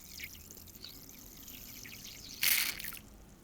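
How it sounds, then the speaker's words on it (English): Water squirts from a Moroccan syringe henna applicator while it is rinsed, a faint trickle and drip followed by a short, louder spray burst near the end. "the tip will suck water into the barrel of the syringe, and then you push it out"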